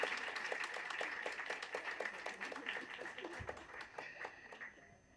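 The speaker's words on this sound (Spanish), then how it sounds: "Un aplauso para ustedes." Applause from a live audience at a Spanish-language podcast recording: a steady patter of many hands clapping fills the whole stretch at moderate level, with a voice speaking over it.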